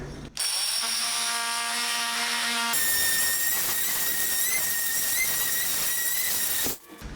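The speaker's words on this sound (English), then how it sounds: "I'm going to use a multi-tool to undercut these casings" An oscillating multi-tool cuts under a wooden door casing, a loud, steady high-pitched buzzing whine that shifts pitch partway through, runs for about six seconds and then cuts off abruptly.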